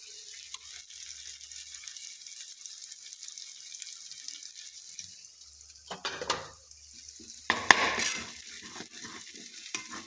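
Vegetables coated with turmeric are stirred in a pan, giving a soft steady sizzle and a few louder scraping stirs toward the end, with no voices.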